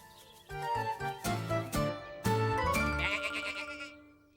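Sheep bleat on an animated children's farm, several wavering calls overlapping with a bright jingling musical backing, fairly loud and close.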